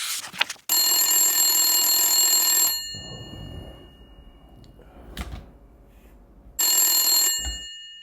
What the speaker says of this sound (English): I'm using the cordless phone